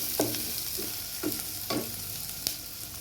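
Onions, ginger and spices frying in a pan for semiya kichadi, with several distinct stirring scrapes over a steady low sizzle, close and fairly quiet, no talking.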